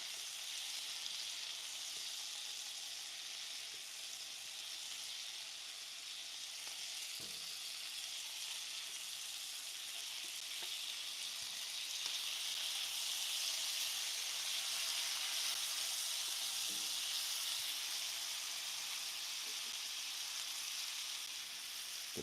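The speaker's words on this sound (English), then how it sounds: "You hear that sizzle, right?" Food frying in a pan in a home kitchen, a steady soft sizzle and hiss running throughout, with a few faint clinks and stirring knocks and a slight swell in intensity partway through.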